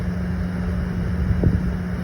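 A 54 ft sailboat's engine runs at a steady idle with a constant low drone and hum, heard close and alone with no talk.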